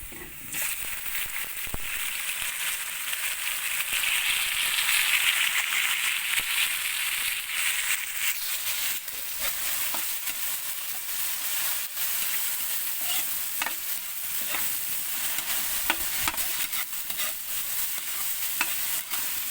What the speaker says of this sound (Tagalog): Ayan gamitin ilagay na natin guys yung kamatis